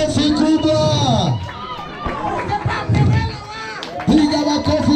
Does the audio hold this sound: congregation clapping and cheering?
yes